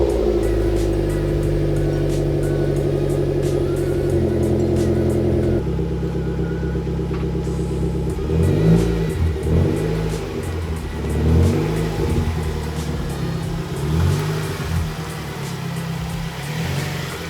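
A 2.3-liter 4-cylinder Mazda 3 engine runs steadily at idle, then revs up and down several times, loud and close.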